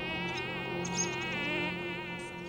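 A mosquito in flight gives a steady, close, high-pitched whining buzz that holds for the whole two and a half seconds with no other sound.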